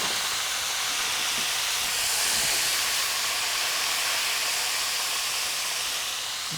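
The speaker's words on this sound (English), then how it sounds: "I'm going to double fry mine because they don't absorb as much oil that way." Crab double frying in hot oil, a loud, steady, broadband sizzle and hiss that holds constant throughout with no talking.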